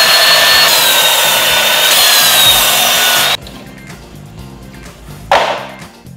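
A power saw cuts through a piece of wood for a compost bin base, a loud, steady, close whine for about three seconds that stops abruptly, followed by quieter handling noises and a short clunk.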